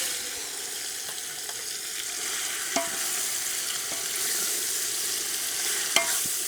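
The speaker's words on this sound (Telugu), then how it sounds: "విక్కీ ఆ చికెన్ తెచ్చే ముందుగా మనం మ్యారినేట్ చేసుకున్న చికెన్ అయితే మసాలా పట్టించి చికెన్ అయితే వేసుకుందాం." Masala-marinated chicken frying in a pot, a steady broadband sizzle with a few sharp clicks and scrapes from stirring, heard alone without voices.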